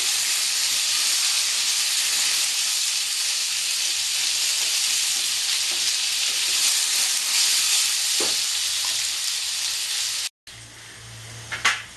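Potato pieces frying in hot oil for a Bengali aloo bori tilapia dish give a steady, loud broadband sizzle and hiss, running unbroken for about ten seconds before a brief cut and a quieter tail.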